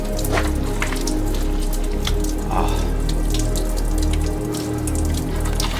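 Flowing stream water near the Heavener Runestone, a close, continuous babbling and splashing trickle with bright droplet sounds, steady throughout and with no talking.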